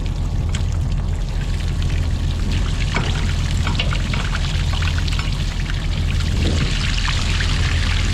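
Fluid drains steadily from a Massey Ferguson 7495 tractor on a dairy farm, a continuous close pouring trickle over a low, constant machinery rumble, with no talking.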